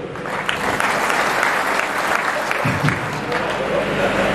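A crowd applauds friends of a prize winner at a bullock-pair decoration contest in Kalwan. Continuous outdoor clapping carries on, with faint voices beneath.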